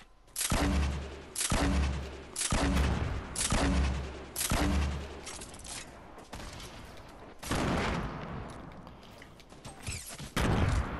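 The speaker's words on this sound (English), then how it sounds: "Oh, I'm being shot from my left." Gunfire rings out during a squad match in a shooter video game: about six heavy, evenly spaced shots with deep booms in a row, then quieter scattered fire and a final burst.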